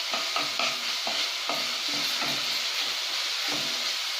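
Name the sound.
ginger garlic paste frying in a pan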